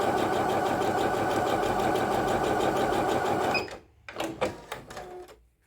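A Singer HD6805 sewing machine stitches fabric in a steady, fast mechanical whir with a dense rhythmic chatter, then stops abruptly, followed by a few scattered clicks and handling sounds.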